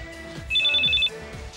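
A telephone rings once in a short electronic burst, clear and close, as a call comes in during a Russian TV series scene, with faint room noise around it.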